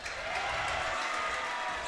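Crowd noise at a high school varsity basketball game between Frederick and Skyline, a steady broad roar of cheering and applause from the stands that holds throughout without a break.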